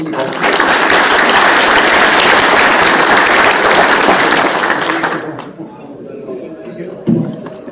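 A loud, dense round of applause from an audience fills the room, then cuts off sharply, leaving quiet room noise and a few brief voices and a small thump afterward.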